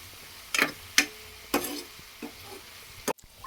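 Red gongura leaves and dry prawns stirred together in a pan, with a handful of distinct scraping strokes spaced about half a second apart over a soft, low sizzle, ending in a sharp knock.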